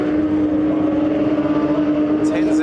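A Toyota Supra and a Holden VL drag race, a loud, steady engine drone held at high revs throughout, close and unbroken, with a faint voice near the end.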